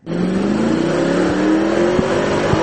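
A Mercedes-AMG 63 with 475 horsepower accelerates hard, its engine note climbing steadily in pitch, loud and close with brief rumbling pulses.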